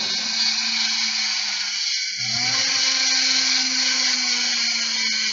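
A rotary burr grinding fire agate stone gives a steady, high whine with a low hum beneath, briefly dipping and shifting pitch midway before settling back.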